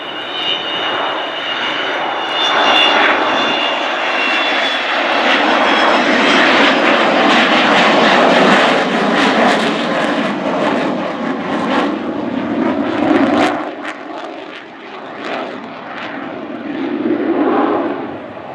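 Avro Vulcan XH558 bomber on a demonstration flight at the Farnborough Air Show 2014, gear down, a loud, continuous roar of jet engines that swells, passes and slowly fades with a rushing tone.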